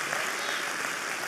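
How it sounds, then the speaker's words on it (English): Church congregation clapping during a sermon, a dense, even wash of many hands, steady and moderately loud across a brief moment. "I think there ought to be a better applause than that."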